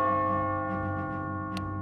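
A ringing bell tone in the game Catherine: Full Body sustains with a rich, layered chime, moderately loud and alone, with a faint brighter strike near the end.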